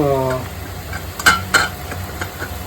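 Paneer masala with cashews, salt and chili being stirred in a pan, with a low sizzle and two or three distinct spoon scrapes and taps against the metal, after a short hum of voice at the start.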